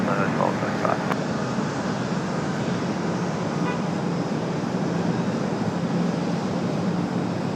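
An airliner departing runway 23 right at Raleigh-Durham International, a steady broad jet roar filling the whole stretch, loud and continuous without pause, with faint tower radio voices along with it.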